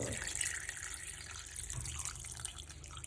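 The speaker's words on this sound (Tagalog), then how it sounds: "let's add some water" Water runs steadily into a cooking pot of chicken for Filipino tinolang manok, a continuous splashing pour heard up close with no talking.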